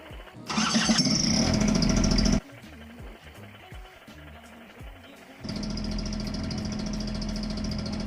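A paramotor engine, just repaired with a plastic bottle, starts with a roar and runs loud, then drops to a quieter idle. After a few seconds it revs back up to a steady, loud drone.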